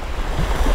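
Sea surf rolls onto the shore in a steady low rumble, mixed with wind buffeting the microphone, loud and close throughout the brief moment.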